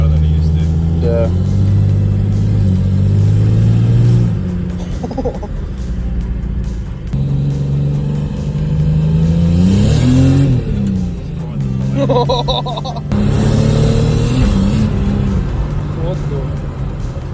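Ford EA Falcon with a Barra engine swap and a leaking exhaust accelerating: a loud, rough engine drone rising and falling through several revving pulls, with raspy exhaust noise and people talking over it.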